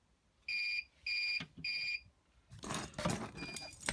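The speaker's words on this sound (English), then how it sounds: "our batteries are getting that low that the buzzer's coming on" Three steady electronic low-battery alarm buzzer beeps in a row, evenly spaced, followed by rumbling engine or handling noise.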